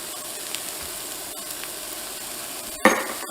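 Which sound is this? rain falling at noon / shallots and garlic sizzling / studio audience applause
shallots and garlic sizzling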